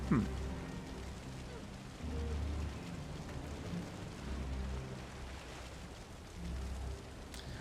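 Steady rain falls in the Valheim game world, a constant hiss spread across the whole clip with a few soft low rumbles swelling and fading underneath.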